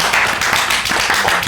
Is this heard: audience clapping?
yes